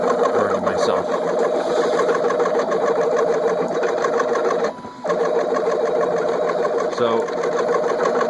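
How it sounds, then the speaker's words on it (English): A 3D printer prints small cubes, its stepper motors buzzing and whirring in a busy rhythmic pattern close by, with one brief pause midway. "we're printing little cubes, and what it's doing is it's filling in a pattern in those cubes"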